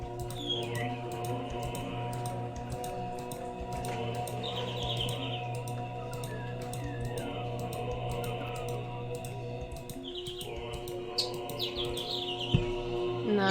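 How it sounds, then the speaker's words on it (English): In the video game The Stanley Parable, birds chirp in short high twittering bursts over a steady droning background hum, with faint clicking and tapping underneath. "Bird!"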